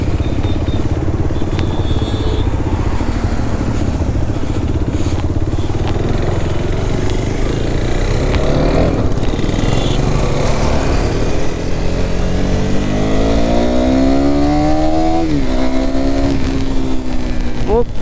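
A KTM Duke 390 motorcycle engine runs loud and close throughout, a steady roar whose pitch climbs and wavers near the end as the rider revs it.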